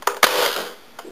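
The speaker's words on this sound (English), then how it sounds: "Okay, now I'm gonna take the flying Pokemon down with my AK-47." Shots from an AK-47 fired at a flying target: two sharp, close cracks in quick succession, then a fainter single pop about a second later, with no voices.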